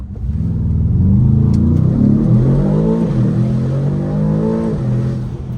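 A loud, close engine roars as an Aston Martin DBX S SUV accelerates hard, its pitch climbing and shifting through gears with a deep rumble.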